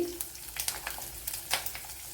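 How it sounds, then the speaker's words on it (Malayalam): Mustard seeds crackle and dried red chilies fry in hot oil for a fish curry, a close, busy sizzle broken by sharp popping spurts, with no talking. "ഇവിടെ കടുക് പൊട്ടിയിട്ടുണ്ട് അതിലേക്ക് വറ്റൽമുളക് ഇട്ട് കൊടുക്കുക"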